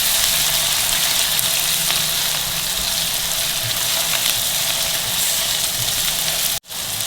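Ginger garlic paste sizzles and fries in hot oil with onions, a steady loud hiss that runs unbroken before a brief cut near the end.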